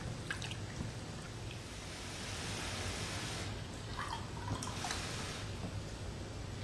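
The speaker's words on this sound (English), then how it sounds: "then I just add in the water to it." Water poured into a pot for a New England pot roast, heard as a soft continuous trickle and splashing liquid with a few brighter drips, close and alone.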